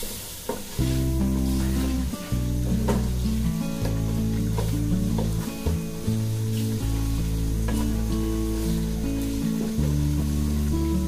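Ingredients for chicken biryani fry with a loud, continuous sizzle in a pan while a utensil stirs and scrapes at an uneven rhythm, close up and without talk.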